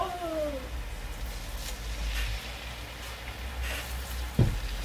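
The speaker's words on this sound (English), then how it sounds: "So guys, I'm going to start frying now." Kokoro dough fries in hot oil with a faint, steady sizzle, opened by a brief squealing tone and marked near the end by a single sharp clunk.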